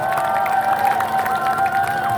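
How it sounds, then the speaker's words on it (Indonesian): A crowd claps for JRMK, the urban poor network, at a farewell speech in Kota Tua by the Fatahillah Museum, with scattered applause and cheering beneath a sustained tonal hum and distant outdoor crowd noise. "Boleh beri tepuk tangan untuk JRMK."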